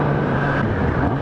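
A new Kawasaki Ninja motorcycle engine runs with a loud, steady, close rumble and a constant drone and no breaks.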